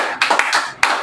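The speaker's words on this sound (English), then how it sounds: "Clap very well." Children in a classroom careers lesson give a short, scattered round of clapping, a few distinct loud claps with a ragged patter between them and no talking.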